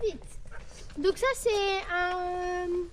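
A neighbours' dog at an equestrian centre gives short barks and a long whining yelp, fairly close, mixed with a voice and talk.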